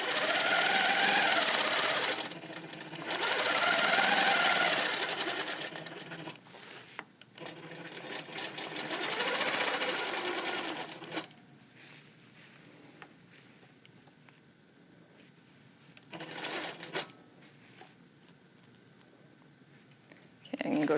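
A sewing machine stitches through a quilt guided along a ruler, running in loud rapid bursts of a few seconds with pauses between, while a person talks during the quieter gaps.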